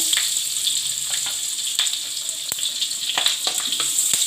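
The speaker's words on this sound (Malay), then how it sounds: "sekarang saya masukkan serai. Tumis serai." Lemongrass sautés in a pan with a steady bright sizzling hiss, close and continuous, dotted with small pops and crackles.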